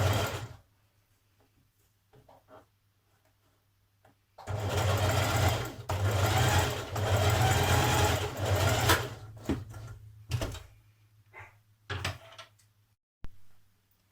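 A sewing machine stitches around an embroidered blouse neckline, starting after a quiet pause with a close, steady whirring run, then short stop-start bursts as the fabric is turned and stitched back up.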